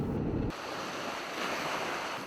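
Ocean surf washes continuously onto the beach at Luna, La Union, on a sunny day. The steady broad rush of breaking waves is mixed with wind buffeting the microphone, fairly faint and with no voices.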